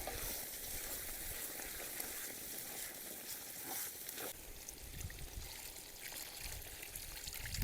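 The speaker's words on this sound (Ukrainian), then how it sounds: "додаємо воду" Water pouring into a hot cooking pot of chanakhi stew seasoned with khmeli suneli, a quiet, continuous hissing sizzle and splash with faint clatter, no voices.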